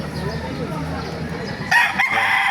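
A rooster crows once at a chicken market in Baliuag, Bulacan, loud and close, over a background of low market chatter and other birds.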